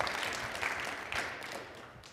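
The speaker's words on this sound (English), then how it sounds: "I need to hear a round of applause, right?" Audience applause at a tech talk on AI database management, a short, fairly faint burst of clapping that fades away.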